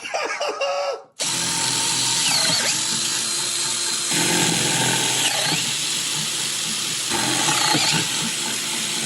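A power drill bores pilot holes for a sim rig motor mount, a loud, steady whine that starts abruptly after a second of quiet and runs continuously with slight shifts in load.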